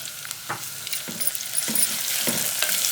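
Carrots and mint stirred in hot oil in a pot, with a bright steady sizzle and several distinct spoon scrapes every half second or so, close and without any talk.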